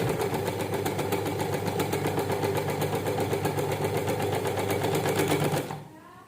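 A sewing machine runs steadily with a fast, even mechanical chatter of stitching, loud and close, then stops abruptly near the end.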